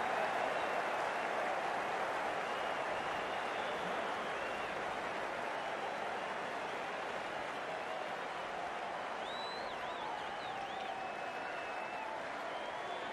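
An excited stadium crowd roars and applauds steadily in Cricket 19 during a match between India and South Africa, a distant, continuous wash of cheering.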